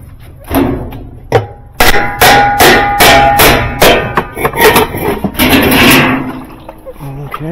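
Loud, close hammer blows ring out during work on a Kenmore washing machine gearbox, first a few spaced strikes and then a quicker run of metallic hits, with some low rumbling between them.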